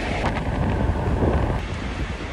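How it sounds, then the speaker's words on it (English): Steady wind buffeting the microphone at a truck fuel stop in North Platte, Nebraska, a constant low rumbling roar with no voices. "It's windy."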